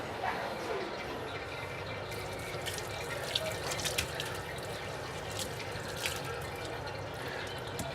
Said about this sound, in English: That's the pretty bit we're going to rinse out now.